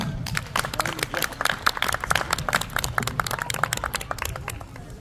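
An outdoor crowd at a castle show applauds performers, a dense steady patter of many hands clapping at moderate volume, fading slightly toward the end.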